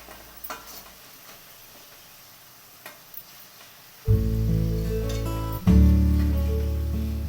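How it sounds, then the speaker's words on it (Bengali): Potato and pointed gourd pieces frying in oil, faint crackles and stirring clicks at first, then a loud, dense low sizzle that swells further midway. "তেলে পটল আলুগুলো ছেড়ে দিচ্ছি এবার এগুলো লাল লাল করে ভেজে নিচ্ছি"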